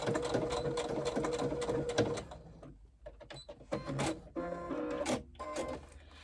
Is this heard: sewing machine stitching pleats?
yes